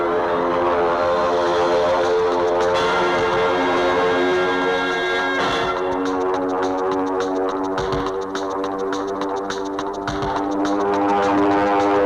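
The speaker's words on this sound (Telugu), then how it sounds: "మన ప్లేన్ కాదు, ఇచ్చట ఎలా ఎగురుతున్నది." A propeller airplane drones steadily overhead at close range, its engine hum loud and continuous throughout with a slight swell partway through, and no voices heard.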